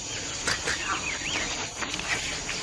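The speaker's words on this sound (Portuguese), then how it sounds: "É o hoatzin." A hoatzin calls from forest along the Orinoco, giving a few hoarse, wheezy fowl-like notes at moderate distance over a steady background hiss, with no speech.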